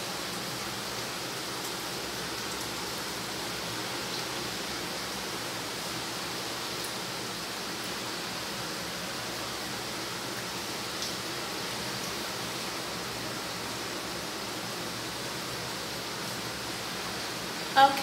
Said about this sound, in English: You scrub everywhere with this.